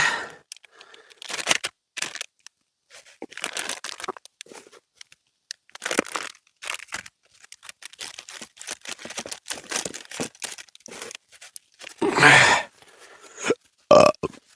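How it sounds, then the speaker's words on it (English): A man doing an oil change makes several loud, close burps, the strongest two coming near the end, amid scattered rustling and handling noises in a quiet garage. "Got the burps."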